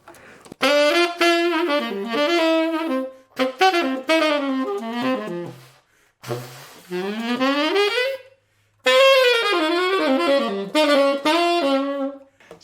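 Saxophone played through a Brilhart Level Air mouthpiece, bright edgy tone, a solo melodic line of several phrases with short pauses, close and clear without accompaniment.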